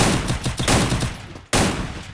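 Rapid bursts of automatic gunfire from enemy players in a shooting video game, loud and close, dense repeated shots that cut off abruptly before resuming.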